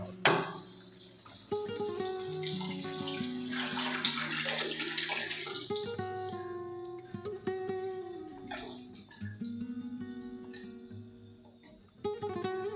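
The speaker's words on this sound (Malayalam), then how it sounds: "നമുക്ക് എത്ര കറി വേണ്ടോ അതിനനുസരിച്ച് വെള്ളം ഒഴിച്ചു കൊടുക്കാം" Water pours steadily into a pan of mackerel fish curry as it cooks, a sustained splashing rush that is loudest early on, with tonal background sound running throughout.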